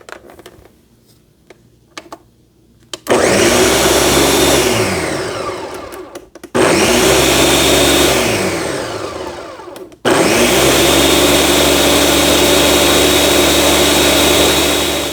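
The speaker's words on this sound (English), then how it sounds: "Let me put the lid on and we'll blend that until it's smooth." A countertop blender purees half a batch of Swiss chard soup with white beans, starting after a few quiet clicks and running in three loud continuous bursts with brief pauses between them, no talking.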